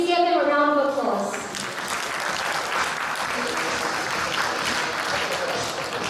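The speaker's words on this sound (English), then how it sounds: "Please give them a round of applause." An audience at a government presentation on a national website applauds, loud sustained clapping close by that begins as a voice speaks over the first second or so, then continues alone.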